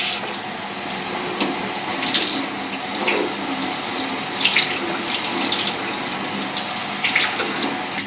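Tap water runs steadily into a sink during yarn rinsing for hand-dyeing, a close, continuous splashing stream with small fluctuations and no talk.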